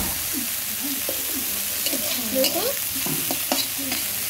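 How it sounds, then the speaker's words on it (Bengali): Bitter gourd, salted beforehand, fries in a wok while being stirred, giving a continuous close sizzle punctuated by repeated scraping stir strokes, with a brief word spoken partway through. "উচ্ছেটা দিয়ে দিয়েছি কড়াই, উচ্ছেটা আমি ভেজে নিচ্ছি"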